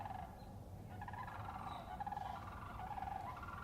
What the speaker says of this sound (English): You guys hear that bird?